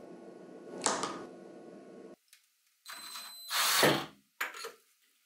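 An earlier magnetic gearbox design turned by hand in a torque test, making short mechanical whirring and ratcheting bursts with brief silences in between, close by.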